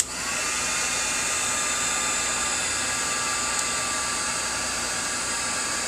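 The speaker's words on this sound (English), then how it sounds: "Heat emboss the utee until we kind of get it where we need it to go." Heat gun blowing hot air to heat emboss UTEE on a crafted tag, with distress ink: a steady, loud, continuous airy whoosh with a faint whine that runs unchanged for the whole stretch, with no voices.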